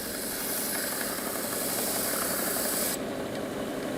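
A guitar neck is hand-shaped to remove bandsaw marks, making a steady, close, continuous rasping scrape that eases off slightly near the end, with no talking.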